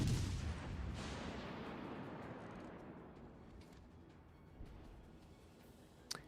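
A warship's big naval guns in World of Warships: Legends, one heavy booming salvo at the start rolling off into a long fading rumble, with a couple of faint distant thuds later.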